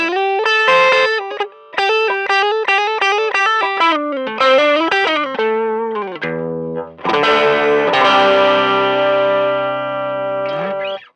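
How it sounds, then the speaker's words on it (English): Electric guitar through a Boss OD-200 hybrid drive pedal set to a basic overdrive tone, playing a quick run of picked notes and bends, then a held, ringing chord with sustain. "So that's a pretty good basic overdrive sound."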